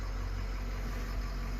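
A John Deere 8RT 370 tractor idles with a steady, low engine rumble and a constant cab drone, with no voices.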